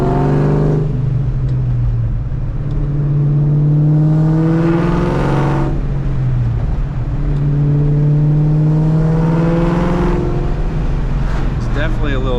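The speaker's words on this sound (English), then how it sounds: "I figured I'd do a little bit of POV driving with the Catless exhaust now" A Terminator car with a catless, straight-piped exhaust roars through two hard pulls, heard from inside the car. Its loud, raspy engine note climbs steadily in pitch, drops at each shift, then climbs again.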